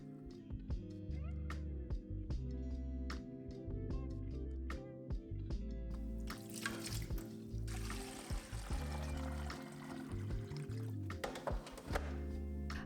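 An espresso machine runs a vinegar and water descaling solution, with liquid pouring and spurting in a steady stream punctuated by clicks and hissing bursts, faint and close.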